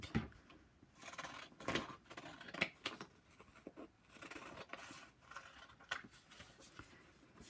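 Scissors cut out a paper smartphone shape, making quiet, irregular snips and paper rustles close by, with no speech.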